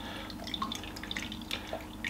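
Liquid from canned chickpeas draining off, with scattered small drips and trickles falling at close range in quick irregular succession, no voices.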